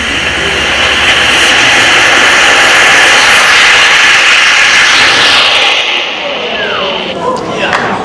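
A model rocket launch roars as a loud, steady, broadband rushing blast that holds for several seconds before thinning out, with a faint whine trailing at the end.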